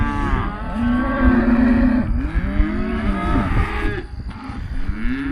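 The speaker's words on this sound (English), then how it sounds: "So these guys are bellowing a little bit, and we got some moms that are bellowing a little bit" Simmental cattle bellowing during weaning on a farm, overlapping loud drawn-out moos from several animals, calves and cows calling close by, continuous and layered.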